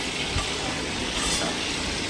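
Prawns frying in hot oil, one at a time, for a Bengali prawn malai curry: a steady broadband sizzle with faint bubbling, close and fairly loud, no voices.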